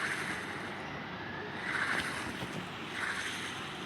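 A character swims through water in a ranked-match shooter video game. Soft splashing and watery swishes come in gentle surges over a quiet, continuous wash of background noise, with no talk.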